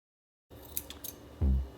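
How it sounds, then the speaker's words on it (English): Scissors snip through wool being cut into lengths for a sock puppet's hair: a few quick, soft close-up cuts followed by a dull thump, with no talking. "Be really careful using the scissors."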